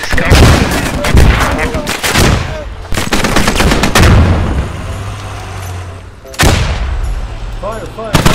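Intense gunfire in the Squad military shooter: loud, close rifle bursts and heavy booming shots come in waves, with echoing battle noise between volleys and a few faint voices.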